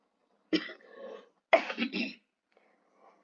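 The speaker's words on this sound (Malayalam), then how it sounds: "ഈ ക്ലാസ്സിലിടയ്ക്ക് ചുമ വരുന്നുണ്ട്" Two short, harsh coughs from one person, close and fairly loud, separated by a brief pause, followed by near silence.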